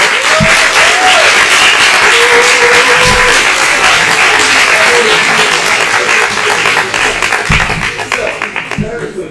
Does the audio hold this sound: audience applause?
yes